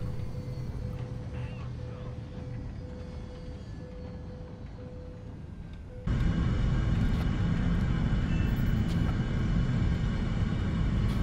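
Italian F-104 jet sitting on the runway in the War Thunder flight sim, a steady loud engine roar with a tonal hum that jumps sharply louder partway through as the throttle comes up, with no speech.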